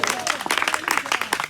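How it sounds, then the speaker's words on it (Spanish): A church congregation at a Spanish-language baptism sermon claps briefly, a quick burst of hand claps with a voice mixed in. "¿Cuánto le dan un fuerte aplauso al Señor?"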